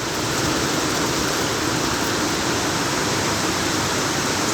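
Water pours through a channel in a lab weir apparatus, a dense, steady rushing hiss like heavy rain. It is loud and unbroken with no voices.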